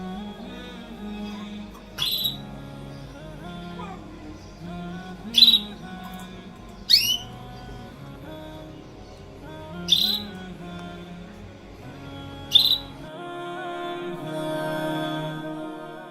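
A bird gives five sharp, loud squawking calls spaced a few seconds apart, close by, over quiet background noise and faint voices.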